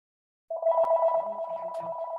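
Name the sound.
telephone ringing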